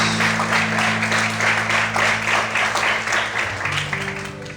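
Church congregation applauds together in steady, moderately loud clapping with a sustained instrumental tone underneath, tapering slightly near the end.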